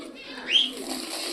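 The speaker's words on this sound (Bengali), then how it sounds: "আমাদের পাখিগুলো কি করছে সেটাও আমরা দেখে নিই।" Pet pigeons kept indoors give a soft, single coo that rises briefly in the middle, fairly faint against a quiet room hiss.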